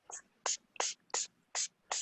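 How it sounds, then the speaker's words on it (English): Six short, crisp spray bursts from a spray bottle, evenly spaced in a steady rhythm, close and fairly quiet. "I hear someone's spray bottle."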